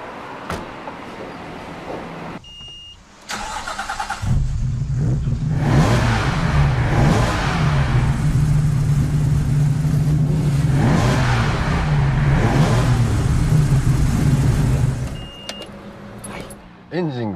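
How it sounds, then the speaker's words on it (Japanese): A classic Nissan Kenmeri Skyline with freshly fitted throttle bodies and air funnels cranks, fires and settles into a loud, steady idle with a few revs, after some clicks and clatter near the car. "これでエンジンの方火が入ると思いますので、"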